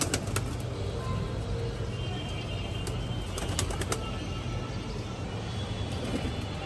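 Pigeons in a home loft coo and flutter against a dense, constant background roar, with brief wing flaps and bird calls scattered throughout.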